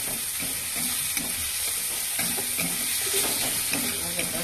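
Spice masala with turmeric frying in a pan, a continuous bright sizzle with soft stirring scrapes throughout, close and steady.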